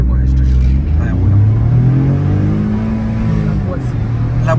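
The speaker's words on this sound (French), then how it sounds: "Mais elle décolle une Brabus." A Mercedes Brabus car accelerates hard from inside the cabin, a loud low engine rumble rising in pitch as it pulls, with people talking over it.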